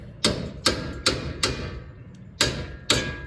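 A hammer strikes a chisel to loosen the wheel bearing shield on a Nissan Titan: six sharp metallic blows in an uneven rhythm, close and distinct, with a short pause before the last two.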